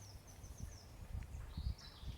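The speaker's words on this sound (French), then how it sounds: "Je pense que vous entendez les oiseaux chanter." Faint, distant birdsong, a few high chirping phrases drifting over quiet rustling outdoor background.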